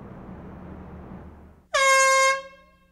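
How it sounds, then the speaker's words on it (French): A single loud blast of an air horn cuts through quiet background hiss, holding for about half a second before fading. "Les klaxons à air"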